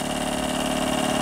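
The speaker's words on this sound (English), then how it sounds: "now you hear that the pump throttled down" A calibration pump for a Monitor 4 or 4S runs with a steady, close mechanical hum and even vibration, constant throughout with no talk.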